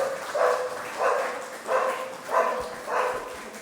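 A dog barks five times at an even pace, each bark a short, muffled woof heard at moderate distance against a quiet background.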